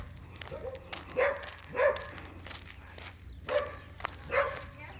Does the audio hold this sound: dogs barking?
yes